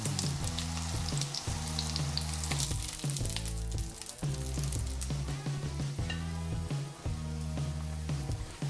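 Padron peppers blister in oil in a frying pan with a busy, steady sizzle and popping crackles, broken by occasional stirring and scraping sounds.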